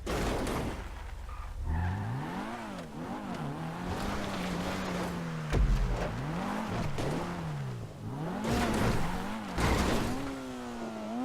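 Video game car engine revving up and down through gear changes with occasional tire skids and thuds from a car prone to flipping, continuous and close without speech.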